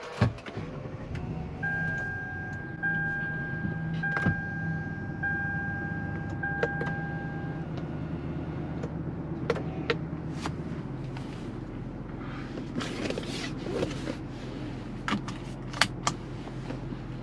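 A 2012 Lexus RX 350 with 150K miles pulls away on a test drive, its quiet engine a low steady hum inside a hushed cabin, with a few clicks and a short electronic chime early on.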